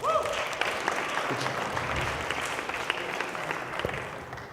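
An audience at a student research poster session applauds as a spoken word performer is introduced, a broad wash of clapping at moderate level with a voice or two audible over it.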